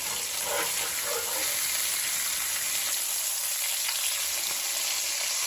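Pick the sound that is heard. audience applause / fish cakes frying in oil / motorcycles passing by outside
fish cakes frying in oil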